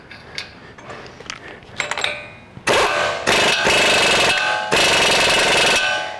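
Impact wrench tightening bolts during a 4-inch lift install on a 2019-or-newer Chevy 1500, with a few light clicks first, then three loud sustained rattling bursts close by, separated by short pauses.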